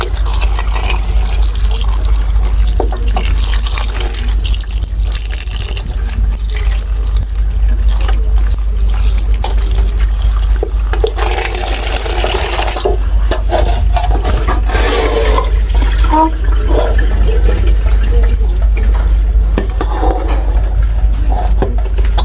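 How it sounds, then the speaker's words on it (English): Water runs from a kitchen sink tap while salt mackerel is rinsed under it, a loud steady gush with splashing and shifting spatter as the fish is handled, over a constant low hum, no speech. "So we're gonna go over to our sink and give this a quick rinse off"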